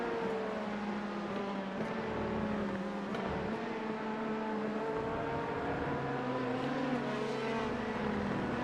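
A race car engine in a racing video game holds a steady, droning note on the pit speed limiter, its pitch wavering slightly as it runs continuously without talk.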